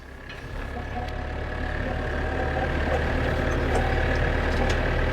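A farm tractor idles steadily outdoors with a constant low diesel rumble that swells slightly at first, then holds even and loud throughout, no one speaking.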